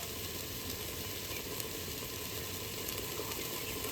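Ground turmeric hits hot oil in a pan while egg pulao is being cooked, giving a steady, close hiss of frying that stays even and unbroken with no voices over it.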